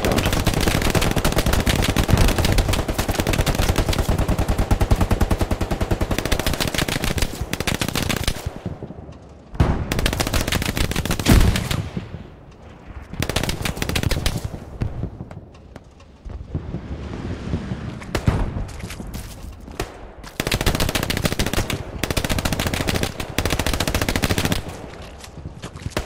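Heavy gunfire in a video game battle: long sustained bursts of automatic fire, loud and close, broken by brief pauses before resuming.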